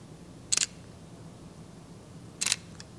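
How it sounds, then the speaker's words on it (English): Two crisp electric front-curtain shutter releases from a Sony A7IV or Fuji X-H2S mirrorless camera, each a quick close double-click about two seconds apart, with a faint extra tick after the second, alone against quiet room hiss. "electric front curtain shutter."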